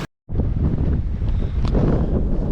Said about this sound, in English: It's a little windy. Don't know if you can hear me